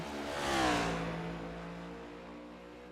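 A NASCAR race car engine in the iRacing video game, one car roaring past as the pitch rises then drops, a loud sweeping pass that fades into a steady engine drone.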